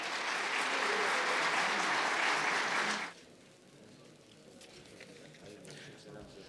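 Loud audience applause at a Turkish-language teaching portal launch event fills the first three seconds, then cuts off sharply, leaving quieter room murmur and faint voices.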